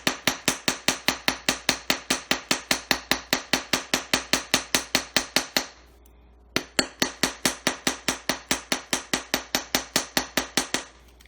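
Sharp metallic hammer blows strike a wire-wrapped pendant on a hammer block, about twenty-five quick, evenly spaced taps, then a short pause, then another steady run of taps, close and loud.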